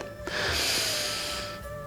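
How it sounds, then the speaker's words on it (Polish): A person doing a neck traction exercise takes one deep breath, a close, airy rush of air that swells and then trails off, with no talk. "Wykonaj parę głębokich oddechów."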